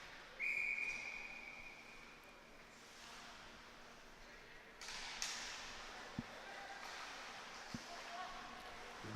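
Referee's whistle at a semi-final ice hockey game, one sharp blast near the start stopping play after the goalie gloves a shot, followed by arena crowd noise and a couple of stick thuds.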